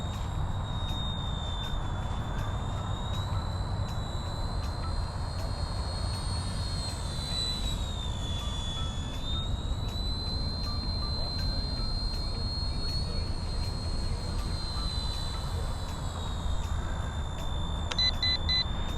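A ready-to-fly RC Apache AH-65 attack helicopter model hovers and flies in regular mode, giving a constant high-pitched electric whine that dips briefly in pitch midway and rises again, steady and moderately close for nearly twenty seconds with no talking.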